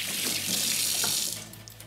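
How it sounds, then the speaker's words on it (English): Kitchen tap water runs steadily into a sink for a couple of seconds while hands are wetted to keep a sticky pumpkin mixture from clinging, then tapers off near the end; close and fairly loud, with no talking. "I'm just wetting my hands a little bit because it's so sticky"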